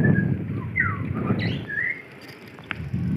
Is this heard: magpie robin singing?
yes